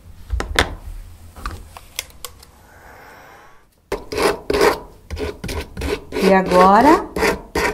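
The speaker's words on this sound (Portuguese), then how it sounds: "é só raspar os contornos usando o estilete" Repeated dry rasping scrapes of a utility knife blade over dried paint, a few strokes near and fairly loud, with a voice speaking briefly before and after.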